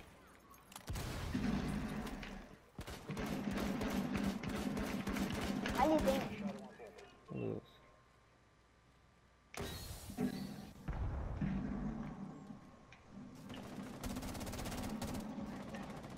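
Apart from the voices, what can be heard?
gunfire in a video game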